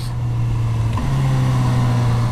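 Suzuki motorcycle engine on a racing track with a quick shifter, holding a loud, steady drone that dips briefly near the middle for one crisp gear change before pulling on at a slightly higher pitch.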